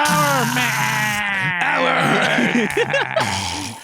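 Sheep bleat loudly and close, several wavering overlapping cries, with quick stuttering bleats toward the end.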